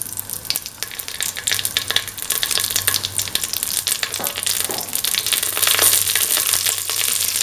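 Mace, fennel seeds and red chillies sizzle and crackle in hot oil in a pan, a busy, close frying noise with irregular pops and stirring throughout, and no voices.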